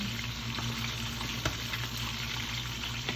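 Tabayag with sardines frying in a pan while being stirred, a steady dense sizzle with occasional scraping stir strokes, close and continuous.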